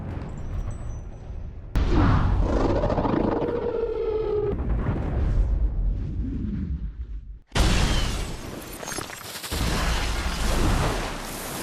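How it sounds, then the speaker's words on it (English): A film explosion in Edge of Tomorrow, as a cluster of grenades destroys the Omega: loud, heavy booming blasts with rumbling roar and a sharp fresh burst near the end, all at full cinematic volume. "The blast instantly wipes out the entire Mimic network across Europe, bathing Cage in its blood one final time"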